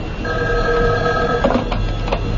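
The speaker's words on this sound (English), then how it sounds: "Excuse me, that's my phone." A telephone bell rings in a radio drama, a loud, close, sustained ring with a brief clatter near the end, heard alone without voices.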